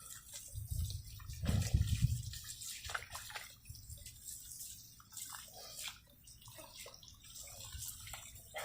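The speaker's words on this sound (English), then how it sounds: "Not bad for a quick shower, huh?" Shower water running steadily at low level, with a louder gush of spray near the start settling into a softer, continuous patter and splash.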